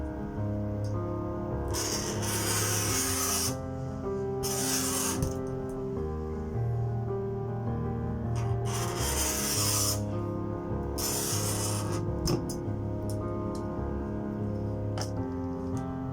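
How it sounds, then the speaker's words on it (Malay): Repeated rasping scrapes as a knife is drawn hard across an acrylic sheet to score it, in several long strokes with pauses between them, close and fairly loud. "lorekan yang kedua dan seterusnya, kita perlu tekan pisau ini secara lebih kuat lagi"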